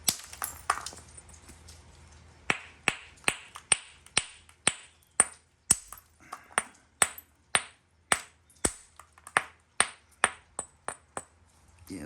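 Hammerstone striking flint while knapping with natural tools, a run of sharp ringing clicks at a steady, roughly half-second rhythm, close and crisp with faint background hum and no talking.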